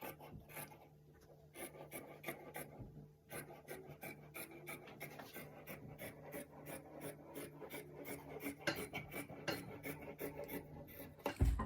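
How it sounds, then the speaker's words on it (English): Scissors cutting along the neckline of a cowl kaftan dress fabric, producing close, rapid rasping snips in a quick irregular series that grows slightly louder toward the end, with no talk. "we'll cut the neckline"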